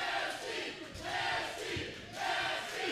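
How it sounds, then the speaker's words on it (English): Wrestling crowd at a live match roaring and chanting in waves, loud and dense, with surges of massed voices rising and falling across the clip. "Crowd is out of control right now."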